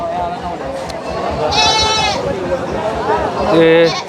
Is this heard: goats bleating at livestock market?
yes